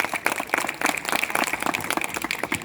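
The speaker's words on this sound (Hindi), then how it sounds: "तो जोरदार तालियों से इनका अभिनंदन करिए।" Scattered, uneven clapping from a village crowd at a Saraswati Puja function as a chief guest is garlanded, moderately loud with irregular bursts over a few seconds.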